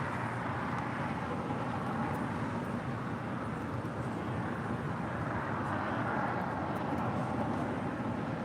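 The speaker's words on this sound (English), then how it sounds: "This is the China Eastern Airlines 777-300ER being towed to the gates of Tom" A China Eastern Airlines Boeing 777-300ER being towed at Los Angeles International Airport, heard as a steady, broad, droning roar of engines and airfield noise that stays even throughout, with no talking.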